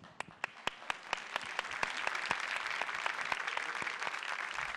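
An audience claps for a performer at a Crimean Tatar concert in Ankara. A few distinct claps open it, then the clapping thickens into steady, moderately distant applause that continues to the end.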